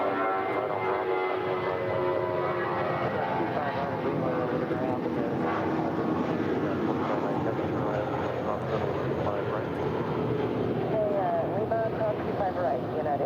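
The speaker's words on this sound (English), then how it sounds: "That is Spirit Wings flight 953 departing to Detroit. It's an A320." A Spirit Airlines Airbus A320 departing LAX for Detroit produces a steady, broad jet roar heard from a distance, mixed with wind on the microphone and voices talking underneath.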